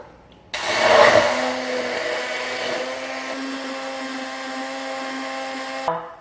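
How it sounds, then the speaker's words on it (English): Kitchen blender whirring on almond milk with soy lecithin, switching on abruptly into a loud steady motor whine with a brief heavier surge at first, then cutting off. "Give that a blend."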